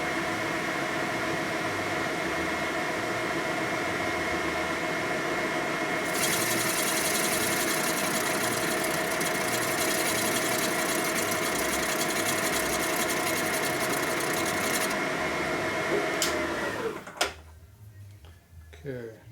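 Machining tool chamfering a 1990s Evo Sportster 90ci big-bore motor case, a steady mechanical whir and grind running throughout with a harsher high-pitched cutting layer partway through, winding down near the end.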